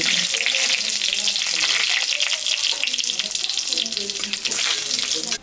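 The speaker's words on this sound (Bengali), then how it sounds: "এখন তেল দিয়ে দেবো তেলের উপরে শুকনো লঙ্কা জিরা সব মোড়া" Dried red chillies and cumin hitting hot oil in a wok, a bright crackling sizzle with rapid popping that stays loud and close throughout, easing slightly near the end.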